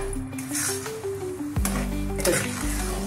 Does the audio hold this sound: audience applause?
no